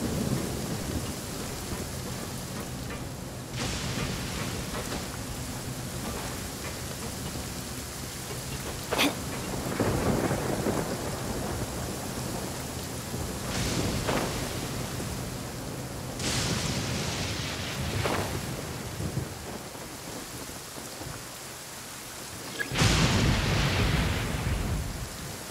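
In the game Genshin Impact, steady rain falls while rolling thunder rumbles and cracks several times, with a loud close thunderclap near the end standing out over the constant downpour.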